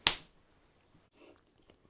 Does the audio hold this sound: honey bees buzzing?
no